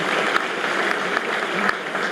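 Loud, dense applause from a large audience at the opening ceremony of the Turyanaad-25 festival at MANIT Bhopal fills the whole stretch, with a few sharper claps standing out.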